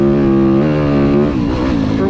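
Off-road motorcycle engines drone loud and close on a dirt race track, a steady harmonic whine that dips and shifts pitch midway as the rider changes throttle.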